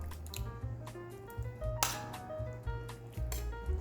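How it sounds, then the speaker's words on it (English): Hot bulgur stuffing is pressed and spooned into a pumpkin, with soft squishing presses and light clinks of a utensil under a low background hum. "I put the mixture into the pumpkin while very hot."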